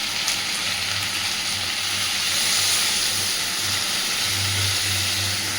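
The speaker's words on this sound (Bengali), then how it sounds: "এবার দিচ্ছি জল।" Water poured into a hot pan of egg curry sets off a loud, continuous hiss and steaming sizzle, close and steady throughout.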